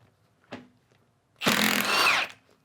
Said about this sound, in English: that same 22 semi-deep 1/2 inch drive on a Milwaukee high torque 1/2 inch drive impact